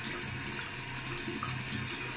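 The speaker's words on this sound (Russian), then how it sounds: "В теплой воде его моем." A vibrating massager is rinsed under a running warm tap, giving a steady close hiss of flowing, splashing water into a sink.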